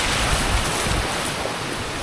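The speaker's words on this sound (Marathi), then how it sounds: "हा आता तिसरा ओढा मी पार करतोय" A small stream crossed on a hillside trek near Matheran gives a steady, close rushing wash that blends with wind-like noise, unbroken for the whole moment.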